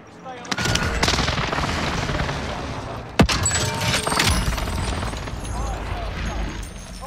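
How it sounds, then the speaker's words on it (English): A precision airstrike in the shooter game Warzone thunders in as a sharp blast and crackling explosions, with one especially loud impact midway and sustained rumbling gunfire-like bursts, with speech mixed in. "Enemy precision airstrike."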